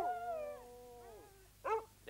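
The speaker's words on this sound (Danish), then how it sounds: "Sirius-hundene er Østgrønlands allerbedste" Greenland sled dogs of the Sirius patrol howl in long, wavering, drawn-out tones that slide downward, followed by a shorter yelping cry, heard fairly faintly in an open outdoor setting without speech.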